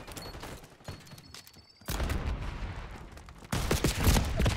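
Shotgun blasts and surrounding gunfire in the Black Ops 6 beta, loud dense bursts of shots coming in clusters, growing heavier toward the end with a fast succession of reports.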